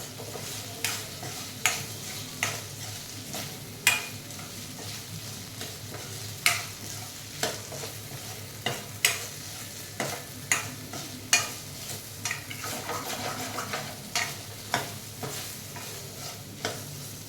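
Prawns frying in a pan, a steady low sizzle punctuated by regular scraping strokes of a spatula every second or so, close and moderately quiet, without any talking.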